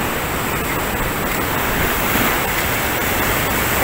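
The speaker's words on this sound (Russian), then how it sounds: "Смотрите, какие волны." Ocean waves breaking on the shore at Tenerife, a loud, continuous wash of surf that fills the whole stretch without pause, with no voices over it.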